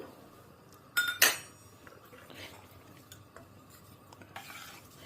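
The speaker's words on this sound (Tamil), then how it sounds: "நல்லா லேசாக பபிள் வர ஆரம்பிச்சுடுத்து" A pot of kaalu saaru, a tamarind and lentil stew, simmers quietly while a metal spoon clinks sharply against the pot twice, followed by faint scraping stirs.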